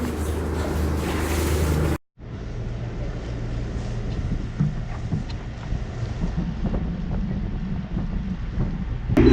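A sailboat out on the open sea with a dog aboard, steady wind rushing over the microphone and water washing against the hull after a brief cut, with no talk.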